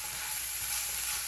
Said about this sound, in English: when you're frying your fish